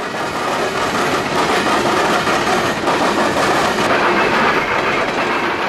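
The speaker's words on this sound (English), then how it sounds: "A long and relatively light train with a single locomotive in the lead, then three units in the middle" A long, relatively light freight train running with distributed power, one lead locomotive and three mid-train units, rolls past close and loud in a steady rumble of wheels and cars.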